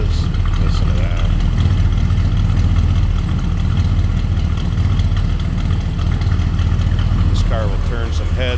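A 1969 Chevrolet Chevelle SS 396 V8 idles loudly and steadily, a deep rumbling burble with a slightly uneven lope that carries on without pause.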